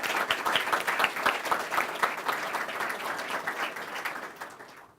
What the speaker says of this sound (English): Please stand and take our applause.